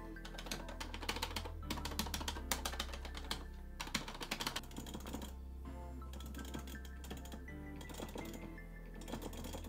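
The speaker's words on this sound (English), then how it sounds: "It's got a nice kind of, you know, like that kind of mechanical clicking noise, but it's not like an offensive clicking noise." A Sanwa joystick on a Razer Panthera EVO arcade stick clicks rapidly and mechanically, a dense close-up patter of crisp clicks running steadily throughout with no voices.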